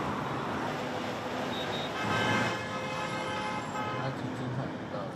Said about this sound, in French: ces concerts de klaxons.